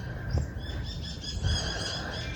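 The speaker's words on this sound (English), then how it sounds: "The birds are happy this morning." Birds chirping on a morning outdoors, a steady chorus of small repeated tweets in the background with a couple of low thumps nearby, no talking.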